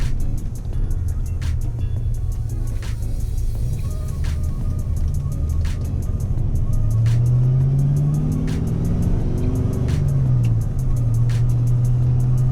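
A Ford Foxbody Mustang with an 8.8 rear end pulls hard in first gear from inside the car, a loud continuous engine drone whose pitch climbs and dips as it revs, with no talk.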